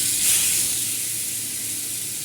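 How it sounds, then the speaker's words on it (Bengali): Fish sizzling in hot oil in a wok, a bright steady hiss that flares briefly at the start and then settles into a constant crackle with no talking. "আগে মাছগুলো একটু হালকা ফ্রাই করে নিব"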